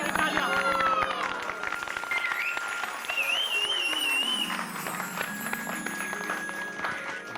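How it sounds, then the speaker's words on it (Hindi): Applause from a comedy show audience fills the scene, dense clapping mixed with whistles and chatter, with a voice and music also heard over it. "तालियां की तालियां।"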